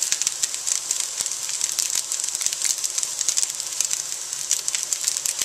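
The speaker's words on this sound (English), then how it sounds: "We're going to fry the shit out of this rice." Rice with garlic frying hard in a hot pan, a steady loud sizzle and crackle with small pops throughout and no voices.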